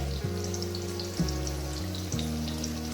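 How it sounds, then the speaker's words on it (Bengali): Sliced green banana fries in hot oil in a pan in a home kitchen, a steady close sizzle with low hum underneath and faint scraping clicks, no talk over it. "এখানে কাঁচকলা ভাজা হচ্ছে"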